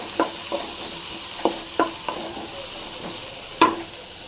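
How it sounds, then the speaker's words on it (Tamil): Black chickpeas fry with curry leaves and coriander in a hot pan, giving a steady close sizzle with scattered sharp spoon scrapes and taps as the mix is stirred. "இதையும் போட்டு நல்லா ஃப்ரை பண்ணிக்கலாம்"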